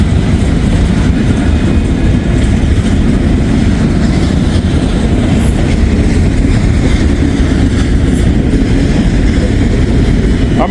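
A train rolls past at close range, a loud, steady rumble with wheel clatter holding level for the whole stretch, with no voices.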